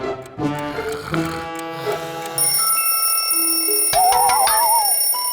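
Loud, bright electronic ringing tones layered with musical chimes, a phone-like ring repeating close by, with no talking.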